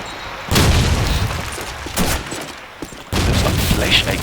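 Gunfire from a competitive first-person shooter match sounds in loud bursts, with a first volley, a brief shot near the middle and a final sustained burst, over a faint background of game sounds.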